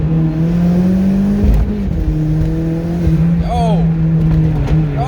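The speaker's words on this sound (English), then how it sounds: "When you downshift, you're trying to rev match, right?" Hyundai Genesis 2.0 car engine running loud and close in second gear, its drone dipping and rising as it revs during a rev-matched downshift, with a brief spoken exclamation over it.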